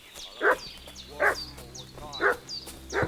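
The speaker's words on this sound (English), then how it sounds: "What's that dog making such a fuss about?" Dog barking in Kingdom Come: Deliverance II, four sharp barks spaced out over a steady village background with faint high chirps.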